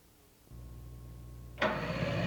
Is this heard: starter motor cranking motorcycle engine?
yes